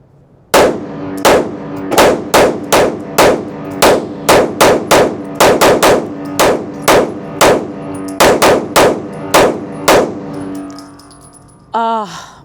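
Rapid strings of loud, close pistol shots from a Sig Sauer P211 GTO at an indoor range bay, fired in quick bursts of evenly spaced reports with brief pauses between strings, ending with a clatter.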